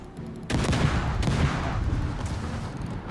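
Naval guns fire in World of Warships, a heavy booming salvo followed by a second blast and rumbling, crackling explosions that roll on loudly, with no voices.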